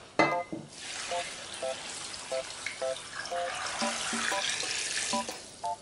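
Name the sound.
cold water poured into pot of beans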